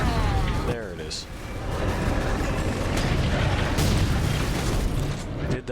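A large explosion in the video game Space Marine booms out in a long, dense rumble that swells and roars for several seconds, with a brief voice near the start.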